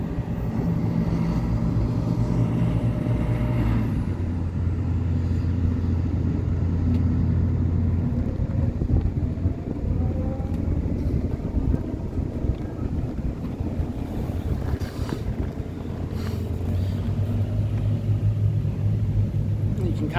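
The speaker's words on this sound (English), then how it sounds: "the ferry will take the vehicles over to the mainland. Very slow moving process." The Palm Island Transit car ferry rumbles as it slowly crosses to the mainland near Don Pedro Island, a low steady engine drone mixed with wind buffeting the microphone, continuous throughout.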